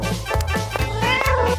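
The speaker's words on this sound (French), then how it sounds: "Et voilà le chat en fond." A cat meows over and over in a quick, insistent series of close, tonal cries. The calls come every few tenths of a second, each with a sharp onset and harmonics.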